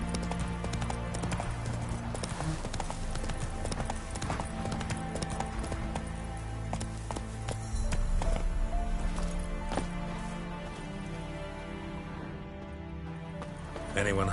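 Geralt's horse Roach trotting in The Witcher 3, a steady clip-clop of hooves all the way through under game music and ambient sound.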